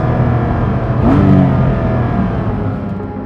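A Porsche Cayman GT4 Clubsport race car with a PDK gearbox revs its engine. A steady drone swells into a sharp rising rev about a second in, then settles back to a loud, even hum, with no talking.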